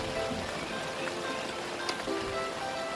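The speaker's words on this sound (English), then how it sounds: "it's raining, it's storming" Rain falls steadily during a storm at the Vaal River in South Africa, a broad, constant hiss of drops on water and surfaces that fills the scene without letup, with no talk.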